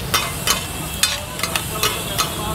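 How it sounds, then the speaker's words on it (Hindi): Dabeli filling fries in an onion tadka with garlic chutney, a continuous sizzle broken by about eight sharp, regular spatula scrapes and taps, close and loud. "अब इसे तो अच्छे से फ्राई किया जाएगा"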